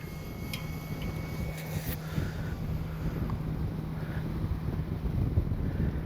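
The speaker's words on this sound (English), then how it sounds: "Getting windy." Low, rumbling wind buffets a microphone steadily outdoors at a radio-controlled model airplane flight, with a faint high whine and a couple of brief clicks in the background.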